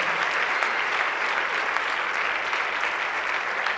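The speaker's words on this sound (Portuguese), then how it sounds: "Você aplaude Jesus?" A church congregation applauds steadily for the whole stretch, a dense, even wash of many hands clapping at once, fairly loud and without pauses.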